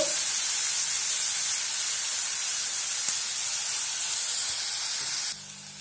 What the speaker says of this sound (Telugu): ఈ టమోటా ముక్కలు కూడా బాగా మెత్తగా అయ్యేంత వరకు వేపుకుందాము